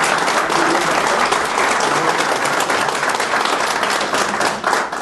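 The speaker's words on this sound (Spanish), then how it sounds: "para quien pido un fuerte aplauso" A room full of people applauds a guest at a discussion gathering, continuous loud clapping that stays even throughout and tapers slightly at the close.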